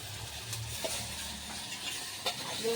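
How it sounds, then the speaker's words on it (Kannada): Tomatoes frying in a pan over a low flame, a steady soft sizzle with a few brief stirring scrapes, close and moderately quiet with no voices. "ಸಣ್ಣ ಉರಿ ಮೇಲೆ ಫ್ರೈ ಮಾಡ್ಕೊಂಡ್ಬೇಕ್ರಿ"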